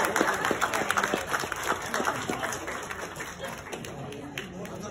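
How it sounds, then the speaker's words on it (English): Wedding guests clap for the bride and groom in a reception hall, scattered claps that start loud and thin out into a lighter patter, with murmuring voices in the background. "give the bride and groom and the family some applause"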